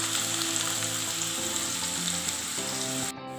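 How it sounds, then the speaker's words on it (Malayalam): A medium onion, finely chopped, sautés in oil in a pan on the stove, giving a steady close-up hiss and sizzle throughout with faint tonal music underneath. "പാൻ അടുപ്പത്ത് വെച്ച് ഓയിലൊഴിച്ച് നമുക്ക് ഒരു മീഡിയം വലുപ്പത്തിലുള്ള സവാള ചെറുതായി അരിഞ്ഞത് ഇട്ട് വഴറ്റിയെടുക്കാം."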